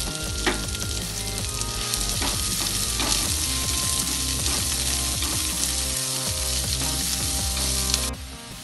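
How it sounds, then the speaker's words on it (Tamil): Chopped onions sauté in a hot pan for Tamil-style karunai kilangu (elephant foot yam) cutlet, giving a steady, loud, dense sizzle with occasional stirring scrapes throughout, then dropping off abruptly near the end. "இந்த பொடியாக கட் பண்ண வெங்காயம் இதையும் போட்டு நல்லா வதக்கிக்குவோம்"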